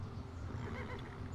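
Horses neigh and whinny from the Civilization 5 strategy game, a continuous mid-loud blend of whinnies over a low rumbling ambient bed, with faint hoof clip-clop woven in.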